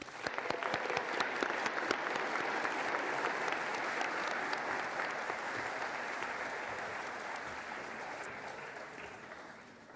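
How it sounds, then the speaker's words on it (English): Sustained applause from a large audience at a physician assistant and physical therapy graduation, steady and full for several seconds before gradually thinning and fading toward the end. "Give them a round of applause as well."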